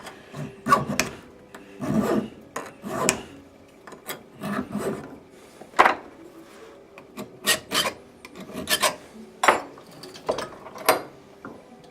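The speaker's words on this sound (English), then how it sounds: "round that off with the finest tooth file that I've got" Repeated rasping strokes of a fine-tooth file rounding off a metal part held in a vice, each a short scraping burst in an uneven rhythm, close and moderately loud with brief pauses between.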